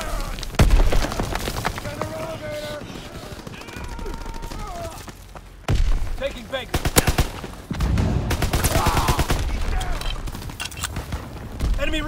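Heavy gunfire in Call of Duty WW2 multiplayer, rapid automatic bursts and crackling volleys with booming impacts, loud and close, coming in dense waves amid battlefield noise and shouted voice callouts.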